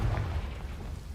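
Confringo fire spell from Hogwarts Legacy, heard as a short, deep booming blast with a rumbling low-end rush that lingers without a sharp attack, no voices.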